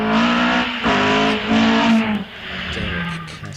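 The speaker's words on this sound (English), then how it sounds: "his Westfield SE 2-litre Vauxhall powered machine, off the line" Westfield SE hillclimb car with a 2-litre Vauxhall engine launching off the line at Wiscombe Park, a loud rising engine note through quick gear changes, close and fading slightly, with a commentator talking over it.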